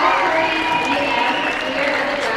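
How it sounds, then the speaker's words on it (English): The home crowd at a Calgary Dinos university volleyball match applauds in a steady wash of clapping, moderately loud, with a commentator talking over it. "the applause goes to their home crowd"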